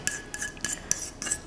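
A utensil scrapes and spreads cheesy bacon jalapeno dip across a baking dish in five rhythmic, close strokes, each a soft rasping swipe with no voices.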